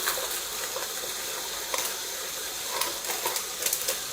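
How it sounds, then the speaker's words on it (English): A pot of salted water boils for spaghetti in the back of a home kitchen, a steady close bubbling hiss broken by a few brief louder pops. "In the back, I've got some salted water boiling, so I'm going to go on with some spaghetti."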